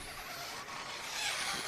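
An electric 1/10-scale RC touring car screeches past at a European championship race in Türkheim, a harsh, hissing whine that swells louder near the end, over steady broadband noise.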